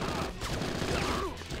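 Sustained machine gun fire in the Bad Boys Miami Takedown video game, a dense rattling stream of rapid shots that stays loud and close for the whole stretch.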